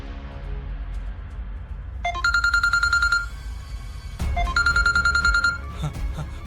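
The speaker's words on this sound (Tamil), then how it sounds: "மேடம், மாப்பிள்ளை தான் ஃபோன் பண்றாரு." A phone rings with an electronic ringtone for an incoming call, two bursts of bright repeating beeps separated by a short pause, heard over a quiet indoor room tone.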